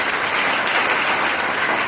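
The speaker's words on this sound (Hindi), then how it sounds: "हमारे देश के लिए एक बार जोरदार ताली।" Loud, dense applause from a large audience at a stage show, a continuous roar of clapping holding steady from start to finish.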